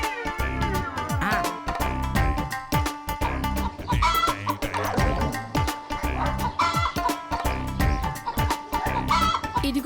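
A chicken clucks and squawks repeatedly in a rapid, agitated rhythm, close and loud, with occasional higher cries mixed in, in a Telugu comedy serial scene.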